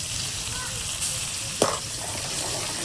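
Frying masala in a pan sizzles steadily, then a spoonful of water hits it with a sharp hiss about midway, followed by continued soft frying noise.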